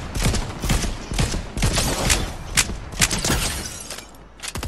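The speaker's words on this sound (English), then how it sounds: "Someone else trying to shoot." Fortnite gunfire in a busy stretch of play: a dense run of sharp, fairly loud shots and bursts, some close and some farther off, layered over game noise with no talk.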